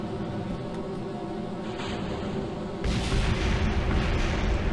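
Video-game fireworks going off, a steady rumbling roar of blasts that jumps to a louder, denser burst partway through, with no voices.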